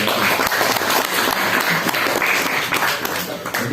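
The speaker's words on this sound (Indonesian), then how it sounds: "Aplaus buat Pak Bas." Loud, sustained applause from an audience at a talk, steady dense clapping filling the room for several seconds.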